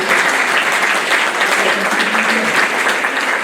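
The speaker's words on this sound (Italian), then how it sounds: "penso che meritino un grande applauso" Sustained audience applause for musicians after a performance at a music institute event in Oderzo, dense and steady throughout at close range, with a faint voice underneath.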